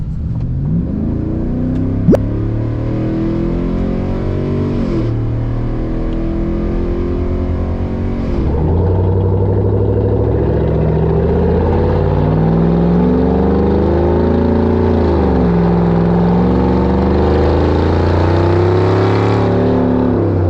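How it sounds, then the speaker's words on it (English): A Chevrolet Silverado ZR2 pickup with an aftermarket exhaust revs hard through repeated full-throttle acceleration pulls, its deep exhaust note rising and dropping between shifts, loud and steady throughout. "You can hear the exhaust, but it's not blowing your eardrums out."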